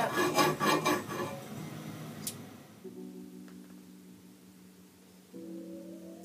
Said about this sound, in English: So you want to get like a file or something, and just take away this edging over here.